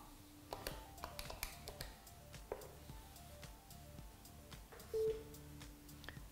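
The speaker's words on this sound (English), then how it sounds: "place the first phone call." Keypad dialing on a Polycom desk phone: a run of short, crisp button taps and tones at close range, with a brief sustained dial tone toward the end, no talking.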